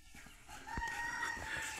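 A rooster and hens pecking in a yard, a few close clucks and a short crowing call over a faint outdoor background, with no talk.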